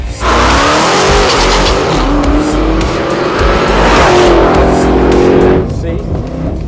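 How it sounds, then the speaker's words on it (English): Car wheels spin hard for traction, giving a loud, continuous screeching tire squeal over a roaring engine, with rising and falling pitch for several seconds before easing off. Voices are heard over it. "That is the wheels spinning at an extremely stupid rate in fighting for traction."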